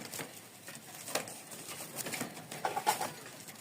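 Restless Giribaz pigeons make soft, irregular flutters and patters with low coos, close by and fairly quiet, with no talk.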